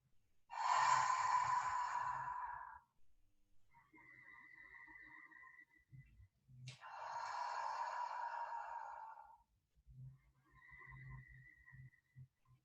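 Two long, soft exhaled breaths during a Pilates arm circle, each followed by quieter breathing and faint movement, close and calm in a quiet room.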